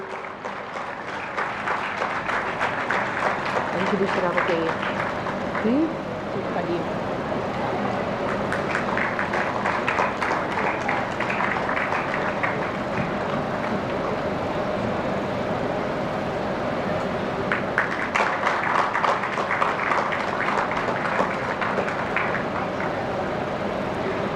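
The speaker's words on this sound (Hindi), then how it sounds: "हमारी तालियां बताएंगी कि हम कितने प्रसन्न हैं" A large audience claps continuously for over twenty seconds at a building inauguration ceremony, the applause swelling and easing in waves.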